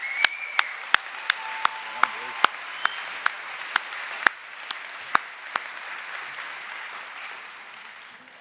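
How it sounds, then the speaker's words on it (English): An audience at an academic awards presentation evening applauds the award winners. The clapping is sparse and distinct, with a few sharp, separate claps over a quiet hall, and it thins out over the last few seconds. "We might give them another round of applause while they're standing there"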